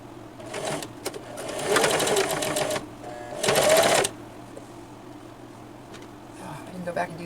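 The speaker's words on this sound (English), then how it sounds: "Now I'm going to go ahead and sew this." A sewing machine stitches purse lining in two short whirring runs, close and clear, with a quieter hum and faint handling sounds before and after.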